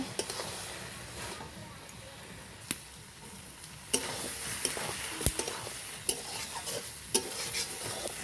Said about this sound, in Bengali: এভাবে কষিয়ে নিতে হবে।